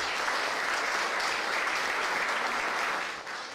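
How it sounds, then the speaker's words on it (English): Sustained audience applause at a bill-signing event for an affordable housing law, a dense, steady wash of clapping that stays loud throughout before easing slightly near the end. "Let's give them a round of applause"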